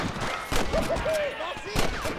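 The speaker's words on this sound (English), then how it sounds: "Are you gonna shoot any of these rustlers, boy?" Gunfire against rustlers in Red Dead Redemption, a few sharp shots spread across a couple of seconds over continuous game ambience, with brief tonal calls and a voice talking in the background.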